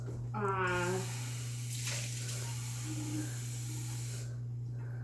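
Water runs steadily from a tap into a measuring cup of flour for a sourdough starter, a continuous hissing pour, and a voice talks briefly over it.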